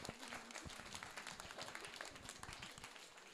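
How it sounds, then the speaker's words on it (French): A round-table audience of association members claps in dense, steady applause that fills the room, with a faint voice under the clapping. "Je trouve que vous n'avez pas assez applaudi Marine"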